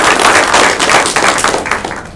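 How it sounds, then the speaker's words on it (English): An audience claps for two colleagues who have just received tenure at a departmental seminar: dense, steady applause that swells, then gradually thins out toward the end. "So we clap for Melissa and Jim."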